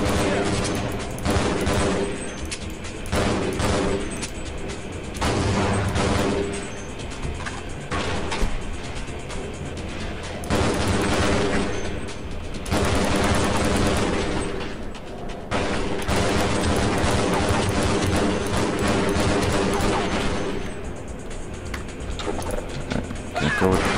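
Gunfire in Half-Life 2: Episode Two, dense bursts of shots through a busy mix of game sounds, loud and sustained with short lulls between volleys.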